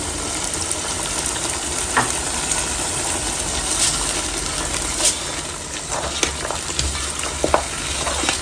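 Red chili, salt, turmeric and garam masala sizzling hard in a pan for Kashmiri mutton rogan josh, a steady loud frying hiss with occasional sharper pops and crackles.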